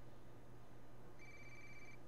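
A phone rings in the video game Watch Dogs, a faint electronic ringtone tone that begins partway through and holds steadily over a low background hum.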